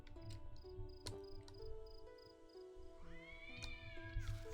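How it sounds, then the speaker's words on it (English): Cat meowing outdoors in The Witcher video game, a rising drawn-out yowl near the end over steady game ambience with chirping insects and music-like tones. "there's a crazy cat outside"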